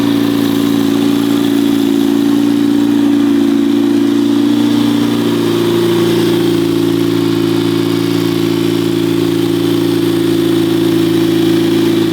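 A restored, turbocharged widebody Honda NSX idles steadily for the whole stretch, a smooth, even engine drone with a slight shift in pitch partway through, close and continuous with no talking.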